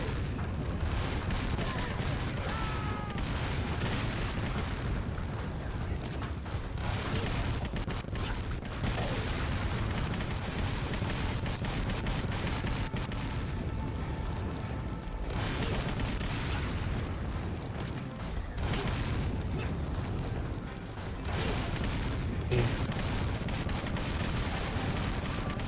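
Rocket launcher explosions and gunfire boom almost nonstop in a video game, a dense and loud barrage with only brief dips between blasts.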